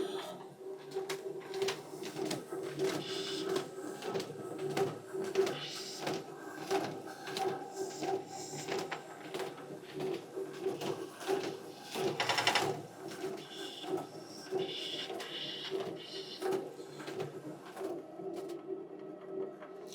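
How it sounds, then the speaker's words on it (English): A test printer prints addresses onto ballot envelopes in a town clerk's office, a rhythmic mechanical ticking and whirring with repeated feed strokes, moderately close and steady, with a louder clunk midway. "There's our test printer."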